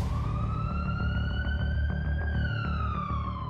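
A sea ambulance siren wails steadily at a Turkish harbour, its pitch rising and then falling, heard at moderate distance over a low rumble of traffic.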